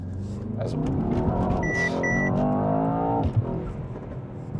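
A Mercedes-AMG S 63 E-Performance with its AMG Performance battery accelerates, its engine note climbing steadily before easing off, close and prominent, with a couple of short electronic tones partway through.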